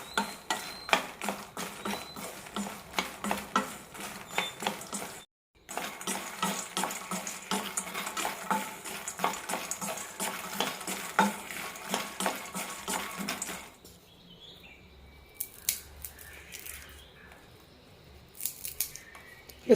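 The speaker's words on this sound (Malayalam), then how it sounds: "നല്ല ക്രിസ്പി ആകുന്നവരെ റോസ്റ്റ് ചെയ്തെടുക്കാം" Makhana (fox nuts) dry-roasting in a pan until crispy, heard as a dense rattling and scraping of light puffed seeds being stirred, with one brief pause, then quieter, sparser scrapes toward the end.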